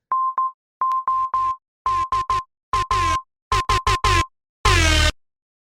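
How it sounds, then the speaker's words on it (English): Morse code beeps spelling out a short two-word phrase, a series of clean, loud tone pulses grouped into distinct letter clusters with short and long bursts, ending on one longer, harsher tone. "Nick, can we do the no, Dave in Morse code?"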